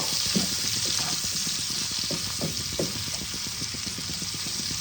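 Spices and turmeric powder fry in a hot pan for chilli aar, giving a steady close sizzle with soft scraping stir strokes throughout and no talk.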